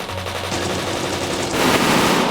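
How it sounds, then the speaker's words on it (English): Machine gun fire rattles continuously from the Higurashi video game, a dense, loud burst of rapid shots that grows heavier and more explosive partway through. "Gunfire, very loud."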